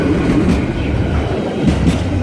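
A Class 166 diesel passenger train in old First Great Western neon blue colours runs near Reading West station, its loud, steady rumble and wheel noise rolling continuously and close, without talking.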